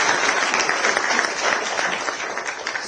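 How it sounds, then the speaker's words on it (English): A crowd applauds the Indian Air Force at a political gathering, loud sustained clapping from many hands that stays steady and dense throughout without letting up. "give a great round of applause for Indian Air Forces"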